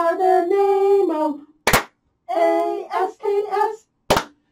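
Two sharp hand claps ring out between stretches of a sung children's song about germs and masks, one clap after the first sung line and another near the end, each loud and crisp against the voices.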